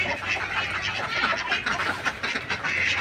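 A flock of ducks let out to drink dewormer-medicated water, quacking and dabbling in a dense, continuous chatter close by, with no talking.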